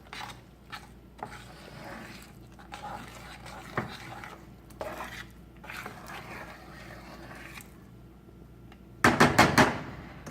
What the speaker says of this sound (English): I'm gonna keep stirring it to pick up whatever is on the bottom